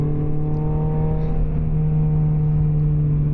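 A newer car with traction control taking a turn in too high a gear, its steady low engine drone and faint whir running close and even throughout with no voices.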